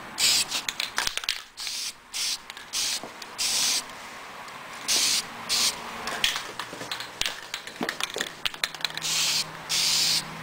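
An aerosol can sprays paint onto a car wheel in a garage, loud hissing bursts a second or so long repeating in an uneven rhythm with short gaps between passes.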